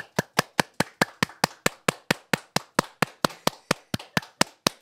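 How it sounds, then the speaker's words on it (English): Hands clap in a steady, quick rhythm, roughly four claps per second, each sharp and close, continuing unbroken with no voices over them. "Why are you clapping that?"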